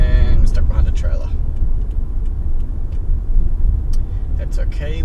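Steady low road and engine rumble inside a car cruising on a motorway at about 100 km/h, its floor and trunk sound-deadened, heard under someone talking.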